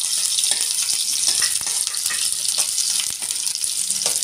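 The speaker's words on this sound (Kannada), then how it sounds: "ಇವಾಗ ಈ ಎಣ್ಣೆಗೆ ನಾನು 2 ಈರುಳ್ಳಿನ ಉದ್ದುದ್ದಾಗಿ ಹೆಚ್ಕೊಂಡಿದ್ದೆ" Two long-sliced onions frying in hot oil, giving a loud, close, steady sizzle with faint crackles throughout and no voices.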